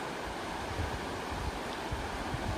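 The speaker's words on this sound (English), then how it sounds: "just to let the water flow by" A stream's water flows by in a steady, broadband rushing wash, close and continuous with no voices or other sounds.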